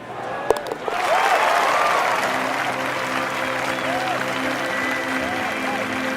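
Steady crowd applause from a golf video game, EA Sports Rory McIlroy PGA Tour, swells after a brief opening and holds as a dense clapping roar while commentators talk over it.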